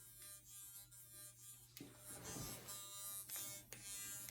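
An electrode device gives a faint, steady electric buzzing with rapid clicking, much like an electric shaver, heard close up with a hum underneath.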